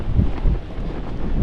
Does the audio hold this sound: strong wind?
yes